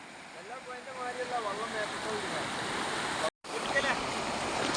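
The clear waters of the Bhavani river near Attappadi rush past in a steady, fairly loud broadband wash, with faint voices or calls drifting through the flow.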